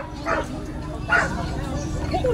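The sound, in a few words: dog barking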